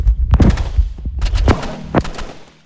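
Rapid bursts of gunfire from a burst rifle in a video game, several sharp close cracks in quick clusters with booming tails, loud and alone without talk.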